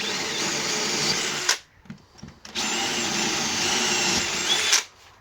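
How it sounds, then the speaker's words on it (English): A power drill whirs loudly in two long bursts, separated by a short pause with faint clatter, then stops. "we'll make the drill holes a little bit bigger."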